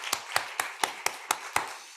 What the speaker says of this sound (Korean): 오늘 이 자리에 함께 계신 우리 하나님께 영광의 박수를 드립시다.